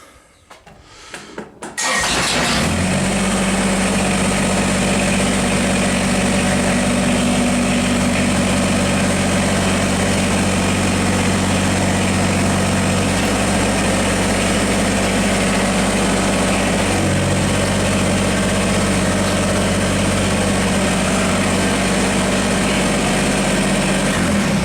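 A Kubota BX-24 compact tractor's engine catches after a short crank and settles into a loud, steady close-up idle with a low rumble, its pitch shifting slightly midway as the hydraulics lift the front loader.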